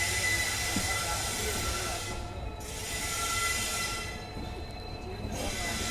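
The Rajasthan Sampark Kranti Express rolls at night along the Sambhar Lake line, heard as a steady, loud rumble of wheels on rails with gentle swells in intensity.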